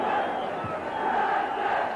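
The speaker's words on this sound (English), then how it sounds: "Nervous kind of cheer surrounding Tannadice at the moment." A nervous crowd murmurs and cheers at Tannadice stadium during a Dundee United v Lens UEFA Cup match in 1986, a broad, distant roar that holds steady and fairly faint.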